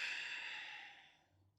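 A long, soft exhale through the nose or mouth during a calm yoga breathing practice, a single airy breath that fades out gradually, close and quiet, with no talking.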